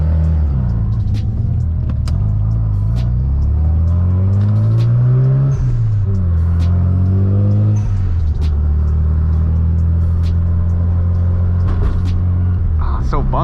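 Mazda RX7 FD engine hums and rumbles while driving slowly along a bumpy street, with the pitch rising and falling through gentle accelerations and shifts and a voice talking over it.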